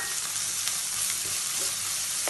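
Dried anchovies fry with eggplant in a pan, a steady close sizzle with faint crackles and stirring scrapes throughout.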